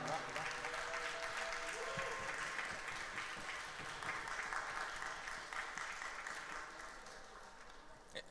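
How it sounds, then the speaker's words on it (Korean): Congregation applauding to welcome new members during a Korean church youth worship service, a steady fairly soft patter of clapping throughout that fades slightly toward the end. "여러분들 아주 근사한 박수로 환영해 주시면 감사드리겠습니다."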